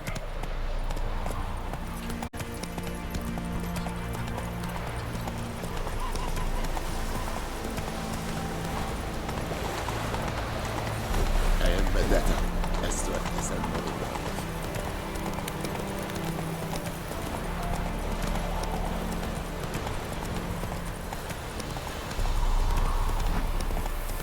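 Roach, the horse in the video game Witcher 3, gallops with a steady, rhythmic clip-clop of hooves that carries through the whole stretch at an even, close, fairly loud level.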